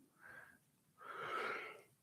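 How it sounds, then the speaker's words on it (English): A person gives a big, drawn-out yawn: a short breathy lead-in, then a longer, louder open-mouthed exhale lasting about a second, close and with no other sound. "that's a big yawn"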